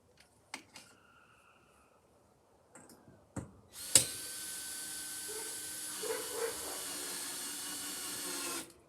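A few sharp knocks and clicks, then a power drill whirs steadily at a high pitch for several seconds before stopping.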